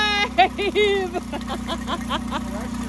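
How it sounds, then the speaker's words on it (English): An outboard boat motor running at night after sitting unused for a year gives a steady low idling drone throughout, heard under excited, close talking. "It's our running outboard! It's alive!"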